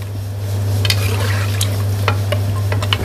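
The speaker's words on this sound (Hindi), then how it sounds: "अब इन सब चीज़ों को अच्छे से मिक्स कर लें।" Spinach and meat curry ingredients with salt, turmeric and water being stirred together in a pressure cooker, a steady scraping and sloshing with a few sharper clicks of the spoon over a constant low hum, with no talking.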